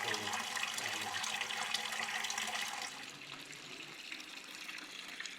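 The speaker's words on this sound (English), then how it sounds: "this water has been flowing here for probably 400 years" Water runs steadily from a centuries-old stone fountain in Paternopoli, Italy, a continuous nearby splashing rush that eases slightly in volume midway.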